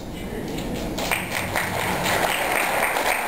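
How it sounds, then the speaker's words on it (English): An audience at a San Francisco community development awards ceremony claps, a moderate, even round of applause in a hall, with a voice faintly over it. "This is the part where everybody claps."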